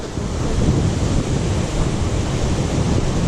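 Strong wind roars steadily across the microphone on a bushwalk at Hanging Rock, a loud, continuous broadband rush with no voices.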